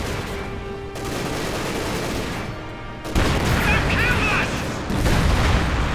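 Heavy ISU-152 self-propelled gun fire in Company of Heroes 2, a loud booming shot with a dense battle din of explosions and gunfire around it, under commentary speech.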